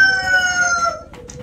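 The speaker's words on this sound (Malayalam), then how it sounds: "ഏതെന്റെ കോഴിയൊക്കെ ഇരുന്ന് കൂവുന്നതിനകത്ത്" A rooster crows once, a drawn-out tonal call lasting about a second, coming through voice chat during a GTA 5 roleplay session, with faint murmuring after it.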